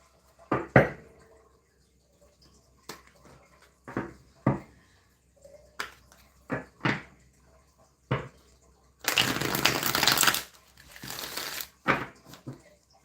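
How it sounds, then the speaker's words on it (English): Tarot cards being shuffled by hand: scattered soft taps and riffles, then a longer dense shuffling burst near the end, close and fairly quiet with no talk. "Two more shuffles and we'll pull the first 6 cards on the bottom."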